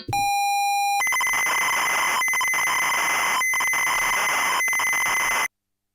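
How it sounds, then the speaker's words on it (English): Harsh electronic tape-loading tones of a ZX Spectrum loading a game from cassette: a steady pilot tone, then a dense buzzing data screech with brief dropouts, loud and continuous until it cuts off. "So it is loading up a game on a Spectrum."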